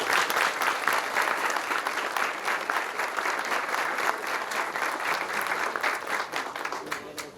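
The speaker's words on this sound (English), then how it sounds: "why don't we go ahead and give them a round of applause anyway." Steady applause from a crowd gathered outdoors for a street naming ceremony, dense, even clapping holding at a fairly loud level for about seven seconds with no talk over it.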